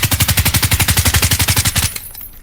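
Rapid automatic gunfire from a video game, a steady stream of close, loud shots at an even fast rhythm for about two seconds before cutting off into a faint tail.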